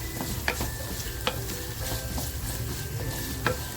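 Onion crackles and hisses in a hot pan while being stirred for chicken poha bhujing, a steady close sizzle broken by a few light spatula scrapes, with no voices.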